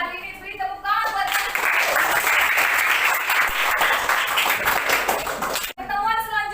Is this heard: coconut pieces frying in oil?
no